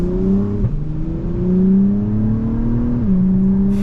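2023 Acura TLX Type S sports sedan driving, its engine humming with a steady tonal drone that rises through a gear and shifts near the end, heard from inside the cabin without talk.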